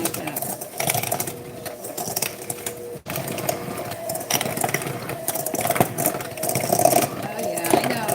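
A small electric hand mixer beats ginger walnut cookie dough, a continuous close whirring motor hum that shifts slightly in pitch as it works, with a brief break partway and faint talk under it.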